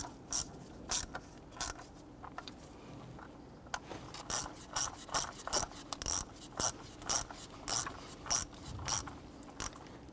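A hand ratchet clicks in quick repeated strokes while tightening the fuel rail bolts to the lower intake on a 2011-2021 Jeep Grand Cherokee 3.6L V6, sharp close clicks in steady bursts with no talk.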